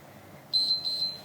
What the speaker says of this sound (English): when we hear that beep, we're going to go up one more time for 30 seconds